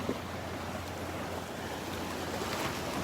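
Ocean waves washing ashore at a Gulf beach at Delnor-Wiggins on a mild day, a steady broad surf rush with light wind noise on the microphone and no talking.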